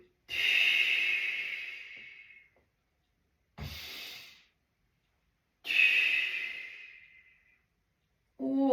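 Three slow, deep breaths taken as part of an exercise routine, each a long airy exhale or inhale separated by brief silences, close and clear with no talking.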